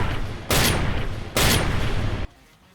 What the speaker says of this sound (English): his daughter deals the final blow by shooting him in the fucking face